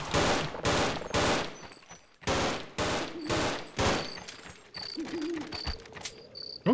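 Three-round bursts of gunfire from a weapon in the video game They Hunger ring out repeatedly, loud and close, with short gaps between bursts.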